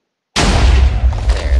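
A bomb gem from a Minecraft mining mod detonates with a sudden heavy boom that stays as a thick, roaring blast and rumble, loud and close, with no talking.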